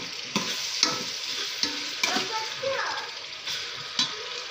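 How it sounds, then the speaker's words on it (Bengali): Food frying in a pan during Ramadan iftar cooking, with steady sizzle and a few sharp stirring scrapes and clinks spread through, close and moderately loud, no talk. "এখন এটা একটু ভাজি ভাজি করে নিব"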